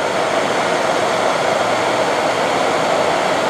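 MAPP gas and propane torches burn full on side by side, heating copper pipe for soldering; a loud, steady broadband roar holds without a break from start to finish, with no voices.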